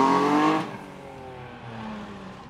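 A Bentley Turbo R pulls away on a classic car road trip, its engine loud and close with a brief revving surge before settling into a steadier, quieter drone as the car moves off.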